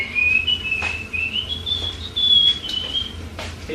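A person whistles a tune, probably an old church song, in a home kitchen; a clear, steady, wavering melody held close and loud, with soft kitchen noise beneath and no talking.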